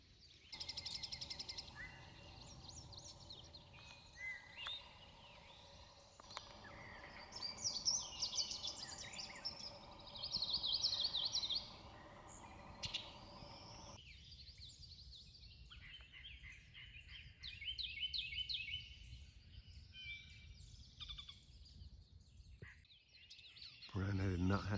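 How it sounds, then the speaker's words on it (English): Yellow-breasted chat singing on a misty early-morning birding patch in North Carolina, its song mixed with other bird calls and chirps throughout while someone talks over it. "There's the yellow-breasted chat."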